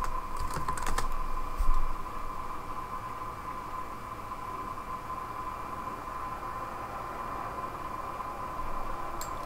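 A computer keyboard clatters with a short cluster of keystrokes as a Docker command is typed, then falls quiet under a steady electronic hum, with one more faint click near the end.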